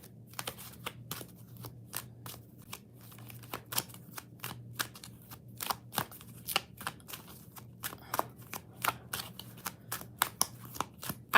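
Tarot and oracle cards being shuffled in rapid, irregular bursts of crisp riffles and slaps, close and fairly quiet, with a low steady hum underneath and no talking.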